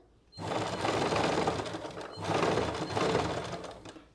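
A sewing machine stitches tucks into a blouse with a steady, close, whirring mechanical run that pauses briefly and then resumes. There is no talk.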